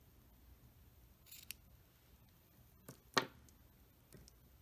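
Scissors snip yarn during crochet work on a soap saver, giving a few quiet, close clicks and one sharper cut near the end against a hushed room.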